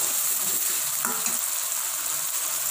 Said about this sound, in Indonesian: nah dioseng-oseng kayak gini